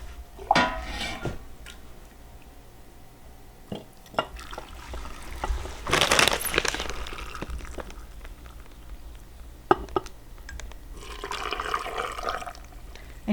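Glass jars packed with hardboiled eggs are filled with brine at a kitchen counter, with liquid pouring and splashing, jars and lids clinking, and scattered clatter over about thirteen seconds, mostly close and moderately loud.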